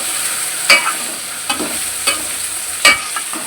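Grains, mixed vegetables, corn and potatoes go into a hot frying pan, giving a steady sizzle broken by a few sharp stirring clatters, close and fairly loud with no talking.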